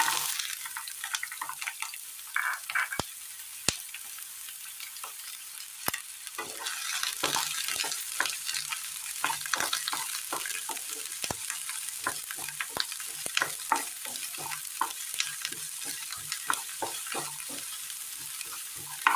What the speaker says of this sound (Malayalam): ഇതിലേക്ക് ചെറിയുള്ളി അരിഞ്ഞത് ഇട്ട് കൊടുക്കാം